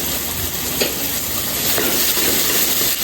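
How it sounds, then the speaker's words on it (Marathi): Onion, tomato and ginger-garlic paste sizzle in hot oil for Mumbai street-style pav bhaji, a steady, close frying hiss with occasional scrapes of a stirring spoon. "तो तेलावर परतून घ्यायची"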